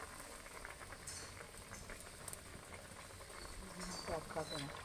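Fritter batter of ridge gourd, potato and salted chana dal dropped into hot oil bubbles and crackles steadily throughout, with a faint voice briefly audible near the end.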